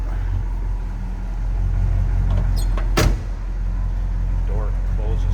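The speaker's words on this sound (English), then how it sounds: "Door closes, fits nicely." A car door on a 1972 Chevrolet Chevelle with a big block V8 and 4-speed manual shuts with one sharp, solid thunk midway, over a steady low engine rumble and background noise.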